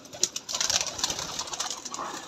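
Domestic pigeons, sick with a chill after a change in weather, coo softly in a steady, close, murmuring stream with a few brighter flutters, and no talking over them.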